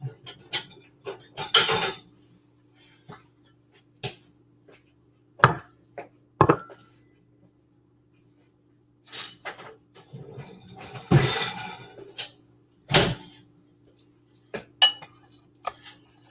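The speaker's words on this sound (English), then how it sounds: "Grabbing 2 bowls here" Ceramic bowls clink and clatter in a kitchen while rice is being prepared, in scattered sharp knocks and scrapes with quiet gaps between, close and fairly loud.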